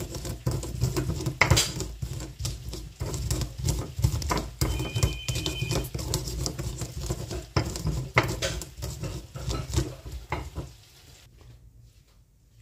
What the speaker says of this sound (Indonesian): kacangnya juga kita haluskan ya teman-temanku semua